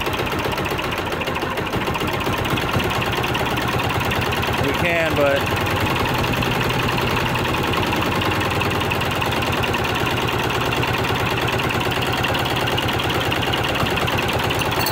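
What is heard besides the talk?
10 HP diesel go-kart engine idling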